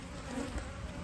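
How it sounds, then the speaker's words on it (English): Honeybees pour out of the front of a newly split hive and fill the air with a steady, close, low droning buzz that holds at a constant level through one brief moment. "I'm gonna let the bees out the front"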